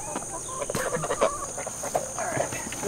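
New laying hens clucking on a homestead, several birds giving short, irregular clucks and soft calls close by, with faint talk in the background.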